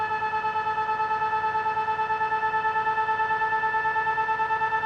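A 1,000 watt ebike motor spun up to high RPM on a test bench, giving a loud, steady, tonal whine with strong harmonics and a faint rapid pulsing, close and continuous throughout without speech.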